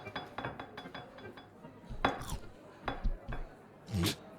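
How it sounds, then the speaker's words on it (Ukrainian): Plates and dishes handled in a kitchen, a string of clinks, clatters and scrapes at uneven intervals, fairly close and moderately quiet, with a couple of louder knocks near the end. "Все, я беру тарілку. Я кладу на неї сосиску"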